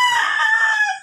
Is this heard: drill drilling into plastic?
no